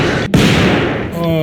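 A custom shotgun in a video game booms once, loud and close, with a sharp attack and a heavy, rumbling tail, followed by a brief ringing tonal cue near the end.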